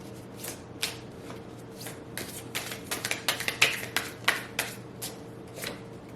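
A tarot card deck being shuffled by hand, a run of quick papery riffles and taps that bunch up in the middle and fade out, close and quiet against a faint steady hum.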